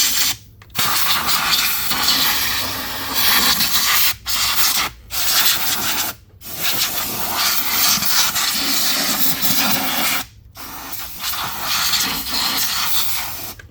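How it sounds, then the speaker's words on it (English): Compressed-air blower blasting debris out of the intake openings on a Dodge 3.6 engine, a loud, steady rushing hiss in several long bursts separated by brief silent gaps. "Use my air compressor, the blower, and get all that shit out."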